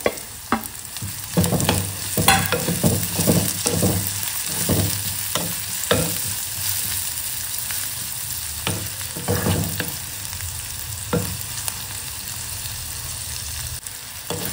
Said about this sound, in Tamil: இப்போ தக்காளியும் நல்லா வதங்கிடுச்சு.